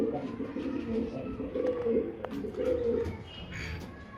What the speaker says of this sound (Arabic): والذكر يغرد دائما، وخاصة عندما يلاحق الأنثى